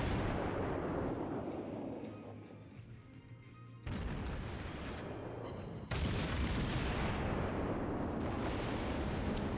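Heavy naval guns of the cruiser Murmansk fire in World of Warships: two loud, sharp broadband blasts a couple of seconds apart, each followed by a rolling rumble over a constant low engine and sea drone.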